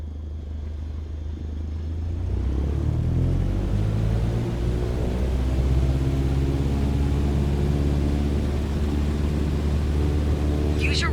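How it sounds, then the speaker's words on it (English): An aircraft engine spools up to full takeoff power in Microsoft Flight Simulator, a rising droning roar that builds and then holds steady and loud, with a voice speaking over it. "Apply full power and I'll walk you through the takeoff as we go."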